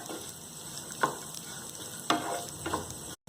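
Dry fruits fry in a pan until golden brown for sheer khurma, a continuous soft sizzle with a few sharp spoon-stirring clicks against the pan.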